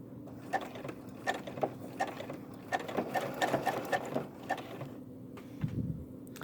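A Brother SE600 embroidery machine stitches through a quilt, its needle hammering in a fast, steady mechanical rhythm close by with a soft motor whir underneath and no talk.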